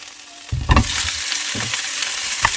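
Pork meat for a pork curry hits hot oil with browned onion and garlic in the pan, bursting into loud close sizzling and frying that keeps crackling steadily, with a few stirring scrapes.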